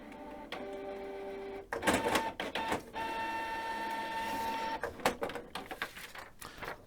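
A Canon Megatank inkjet printer running nearby during a waste ink counter reset: a steady mechanical whine broken by clunks and rattling bursts as the carriage moves, with no talking.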